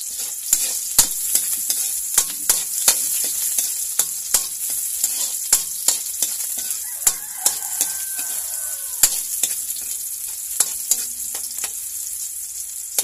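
Onion and garlic sautéing in hot oil in a pan for pork and beans with potato, a steady broadband sizzle broken by regular sharp clicks of stirring against the pan, close and fairly loud with no talking.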